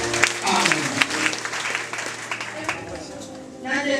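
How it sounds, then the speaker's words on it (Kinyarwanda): Applause rises from a church congregation at a Sunday service. Clapping and crowd noise run under a voice that speaks over them, then fade toward the end before a short swell. "ubu warusahura amashyi ku mwami Yesu amen"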